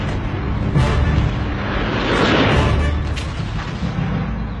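Anti-aircraft guns firing during the October 1973 war, a dense barrage of booming shots and bursts over a constant low rumble, loud and continuous.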